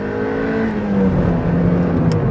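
A 1998 Mazda MX-5 NB with six-speed manual gearbox accelerating from inside the car, a close, steady engine drone climbing slowly in pitch under road and wind noise, with no talk.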